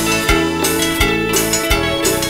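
Loud, dense live cumbia band music with steady low beats and rich layered instruments playing together, full and upbeat.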